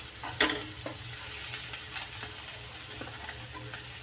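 A spatula scrapes and stirs a thick mashed potato filling for aloo bonda in a pan over a soft, steady sizzle, with occasional clinks; no talking.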